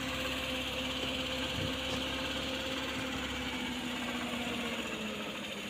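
A Suzuki Carry van engine idles roughly with a constant droning hum and a faint uneven rattling vibration from engine shake, continuous throughout with no voices.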